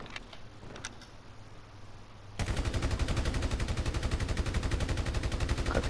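Rapid, continuous gunfire from a sniper rifle in Grand Theft Auto V, starting abruptly after a quiet stretch of game ambience and running loud and steady with no voices.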